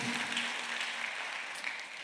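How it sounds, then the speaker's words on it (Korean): Congregation applauding during a Sunday worship service at a church, a steady wash of clapping from many hands filling the room with no voices over it. "박수 하나 더 주세요"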